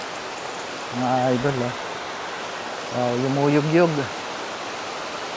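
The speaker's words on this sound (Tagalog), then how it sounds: "Ang lakas ng lagaslas ng tubig." Loud rushing water from a waterfall stream at Three Falls in Sta. Maria, Laguna, heard from a concrete-and-metal hanging bridge: a steady, broad roar that stays constant under a man's short bursts of speech.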